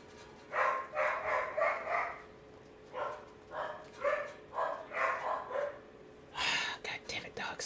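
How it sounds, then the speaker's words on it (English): Several dogs bark repeatedly in bursts of loud, overlapping barks and yips, with a brief pause before a final flurry, carrying over a steady low background hum. "God damn it, dogs."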